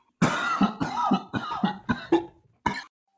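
A person coughs several times in a rough, hacking burst, close and fairly loud, followed by a final cough after a short pause.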